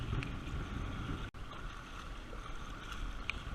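Strong wind rumbles across the microphone while choppy water splashes and slaps against a fishing kayak, continuous and fairly loud, with a brief dropout partway through.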